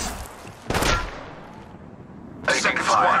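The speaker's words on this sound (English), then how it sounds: "A second squad is firing at us." An enemy squad fires in Apex Legends Mobile, with a loud burst of gunfire near the start and another sustained volley toward the end, each rattling over a dull background rumble.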